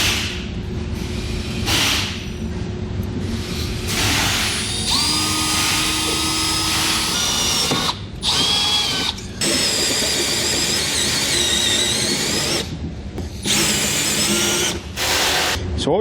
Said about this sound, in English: I'm going to drill a pilot hole